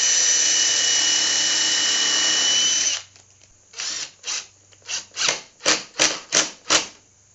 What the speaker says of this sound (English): I'm just going to put screws in here temporarily to hold it together.